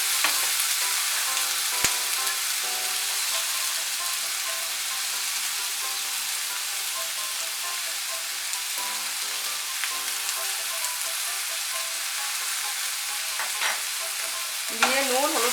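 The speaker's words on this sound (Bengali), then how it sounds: "দিয়ে নুন হলুদটাকে মিশিয়ে নেব।" Salt and turmeric being stirred into potato peels in a hot pan, a continuous bright sizzle with soft scraping stirs and an occasional tap of the utensil, close and steady with no talking.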